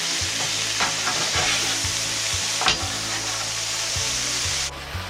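Monster kabobs sizzling loudly and steadily while being turned on the cooking surface, with scraping and a few knocks from the turning over the constant close hiss.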